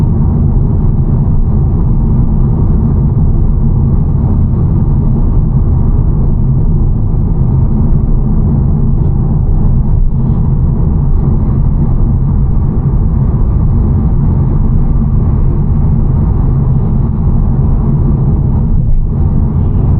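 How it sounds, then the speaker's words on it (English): Steady low road roar and broadband hiss inside a 2025 VW T-Cross 1.0 TSI with DSG at highway speed, tire and wind noise droning evenly and continuously throughout with no talking. "There's also a significant amount of tire noise and some wind noise, but nothing intrusive."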